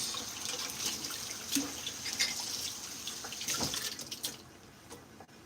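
Tap water runs while cilantro is rinsed under it in a kitchen sink, a close, steady splashing hiss broken by brief louder spatters as the leaves are moved through the stream.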